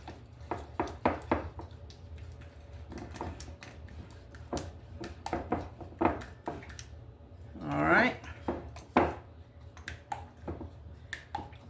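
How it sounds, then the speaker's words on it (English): Mayonnaise, sugar, oil and vinegar coleslaw dressing stirred in a bowl: irregular light clicks and taps from the utensil, close and fairly quiet, with a brief voice sound partway through. "Mayonnaise, sugar, oil, and vinegar. And we're going to stir that up real good."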